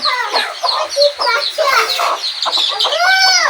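Hens cluck and chatter nearby with young chicks around, a busy run of short clucks and calls, loud and close, ending in a longer drawn-out squawk.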